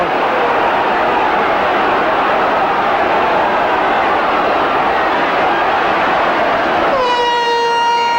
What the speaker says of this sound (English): And the half-time hooter, 6 points to 4 for Leeds.